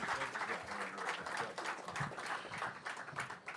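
A crowd applauds at an NCAA basketball Final Four press conference in a dense, steady wash of clapping that holds for several seconds, fairly loud and close.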